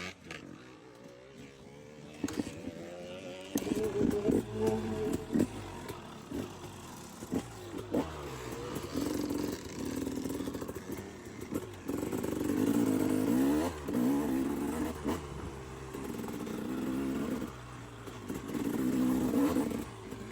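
A supermoto motorcycle ridden off-road at full throttle roars steadily for about twenty seconds, its engine note rising and falling as it revs hard, loud and near without talk.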